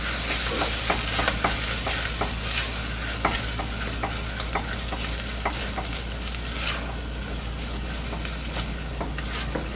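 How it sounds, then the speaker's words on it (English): A spoon stirs a full can of tomato paste into Kansas City style pork rib sauce in a sizzling pan, with steady scraping strokes and small ticks over continuous close frying hiss. "we're going to get this mixed in and loosened up"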